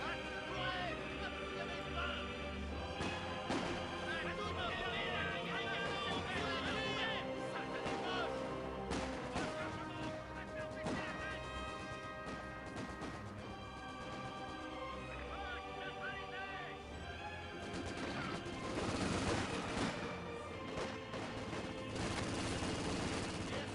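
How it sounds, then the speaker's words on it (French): Gunfire and explosions from the video game Company of Heroes 2 rattle on continuously, with bursts of shots and crashes layered over game music and voices throughout. "On essuie les tirs ennemis."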